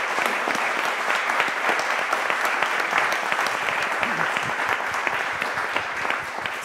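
Conference audience at an Antarctic resolution round table in Madrid gives dense, sustained applause, loud and even throughout with no talk over it.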